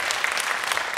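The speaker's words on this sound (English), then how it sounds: "Give her a round of applause." High school hypnosis comedy show audience applauding, a brief burst of even clapping heard at moderate level.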